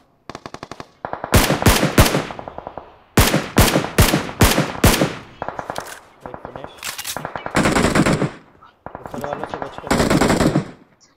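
Automatic gunfire in a battle royale video game, with rapid bursts cracking loudly in several volleys across the clip, a brief pause between groups, and some talk faintly underneath.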